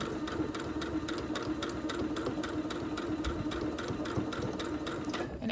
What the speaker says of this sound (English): We're just going to sew all the way down.